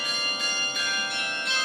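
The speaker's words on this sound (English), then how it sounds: "it's a series of bells in the square that plays 33 different tunes a couple times a day" Town square bells in a small German town chime a children's melody, a steady sequence of bright, ringing tones that sustain and overlap, moderately loud and heard alone.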